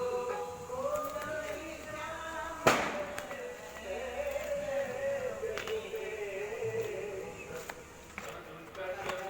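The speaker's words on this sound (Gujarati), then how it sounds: "આ તમને મારા બેકગ્રાઉન્ડમાં ફટાકડાનો અવાજ એટલા આવતો હશે કારણ કે રાતના અત્યારે બધા ફટાકડા બહુ ફોડતા હોય" Firecrackers bursting at night during festival celebrations, sharp distant pops, one clearer crack standing out, heard faintly beneath a person talking close to the microphone.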